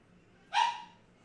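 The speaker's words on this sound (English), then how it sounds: "that was my dog" A single short dog bark, faint and somewhat distant, rising briefly out of a quiet room.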